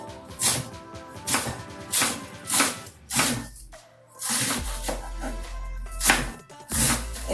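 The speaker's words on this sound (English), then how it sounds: "I'm gonna cut it up." Knife chopping cabbage into thin strips for sauerkraut on a board, a run of rapid rhythmic cuts in bursts with brief pauses between, close and fairly loud.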